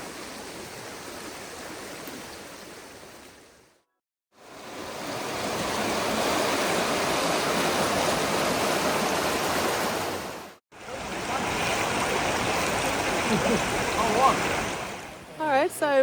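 Blue Scrub Creek runs as a steady, full rush of water through rugged wilderness. The flow cuts out twice for brief breaks and ends with a few knocks.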